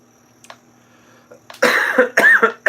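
A person coughs in a run of several harsh, close bursts during a morning guitar lesson, with faint room quiet before them.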